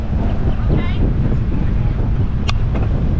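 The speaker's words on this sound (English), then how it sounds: "Got a good bit of headwind here." Strong headwind roaring across the microphone while riding a bike along a beachfront boulevard, a constant close buffeting rumble with a brief higher squeak partway through.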